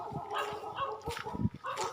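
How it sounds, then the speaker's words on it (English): Dogs bark in a street in Cambodia, a quick run of yips and barks at moderate distance, loosely rhythmic and overlapping. "we got a lot of barking dogs today"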